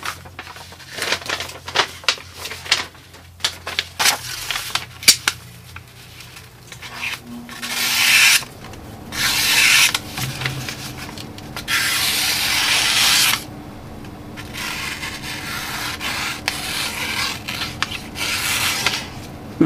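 An S35 steel EDC knife slices slowly through paper, giving a series of close, dry scraping and rasping strokes, some short and choppy, others longer and sustained, with no talking.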